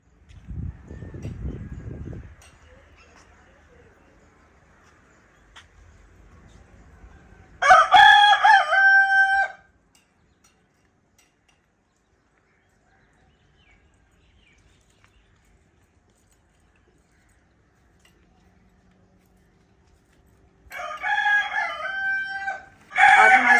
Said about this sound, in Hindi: मुर्गा पहले कहता है मुझे बात करने दे